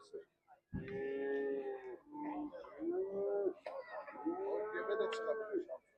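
Cattle moo at a livestock market in Kars, Turkey, with several long, loud low calls close by, one after another, and a rooster-like cry mixed in.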